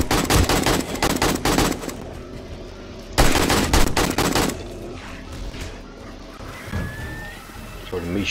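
Rapid automatic gunfire in 7 Days to Die during a horde night, loud sustained bursts in two long stretches, with a player aiming at their own turret, then quieter game noise and a brief rising tone.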